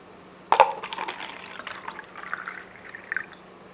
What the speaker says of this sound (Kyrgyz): Азыр биргеликте силер менен суунун кантип үн чыгарарын угабыз.